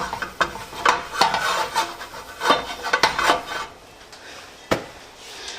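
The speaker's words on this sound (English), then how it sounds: "just give that a quick wipe around" Oil is wiped around cast iron pans with a cloth, giving rough, rhythmic rubbing and scraping strokes up close, with a few sharp knocks and a quieter pause near the end.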